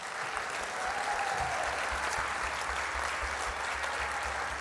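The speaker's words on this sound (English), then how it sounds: "can we give these cooking teams a big round of applause?" Audience at a benefit cook-off applauds the cooking teams, a steady wash of clapping from a crowd heard at moderate distance over a low rumble, even and unbroken throughout.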